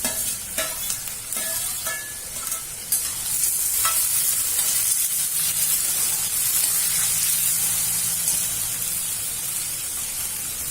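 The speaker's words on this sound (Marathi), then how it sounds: "आता कांदे झालेत आपले थोडे जाऊन आता याच्यात टमाटे टाका" Tomatoes are tipped into onions frying in a pan for kande pohe and stirred, giving a few scraping clinks and then a steady loud sizzle that runs unbroken to the end.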